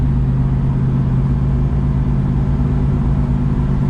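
Steady, loud engine drone from a 1973 Chevrolet Camaro Z28 cruising in direct drive at speed, a constant low-pitched hum with road and wind noise and no talking.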